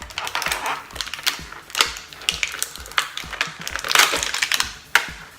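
An action figure being worked free of its tight plastic packaging, with close irregular crinkling, clicking and crackling of stiff plastic in quick bursts.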